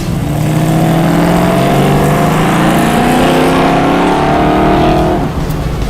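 A Dodge Challenger with faded paint and worn wheel alignment drives at speed, its engine note loud and steady with rising harmonic tones throughout, close and continuous with no talk over it.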